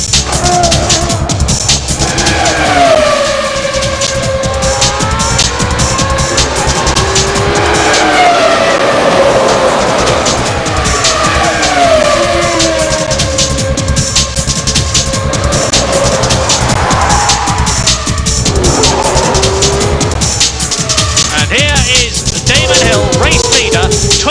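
Formula One cars from the 1996 season race and overtake, their high-revving engines a loud, continuous whine that rises and falls in pitch as they pass, with a commentator talking over the racing throughout.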